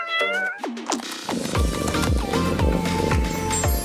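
A pet cat meows repeatedly and close up, a run of short calls followed by a longer, drawn-out wavering meow, loud and clear with no talking.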